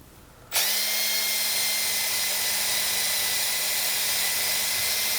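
A power tool used to clean around a chainsaw oil tank whirs on abruptly after a brief quiet moment, then runs at a steady high-pitched whine, loud and close, with no talking.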